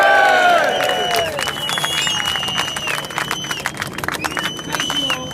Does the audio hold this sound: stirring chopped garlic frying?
no